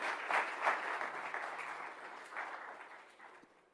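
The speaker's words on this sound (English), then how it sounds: "give a big round of applause to all the panelists" An audience applauds, a crowd's clapping swelling early and then gradually thinning and fading over a few seconds.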